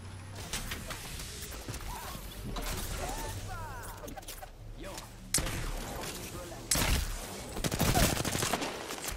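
Bursts of gunfire in the Apex Legends battle royale game, with sharp louder volleys near the end over a busy backdrop of game effects and mechanical noise, with some talking mixed in.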